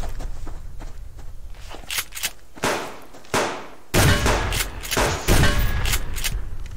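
Gunfire in the video game Subsistence: rapid bursts of loud, sharp shots crack out in clusters and grow denser and heavier toward the end, with no talking.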